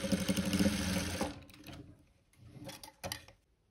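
A sewing machine runs briefly, joining fur hoodie pieces with a close rattling whir that stops after about a second, followed by faint handling clicks and rustles.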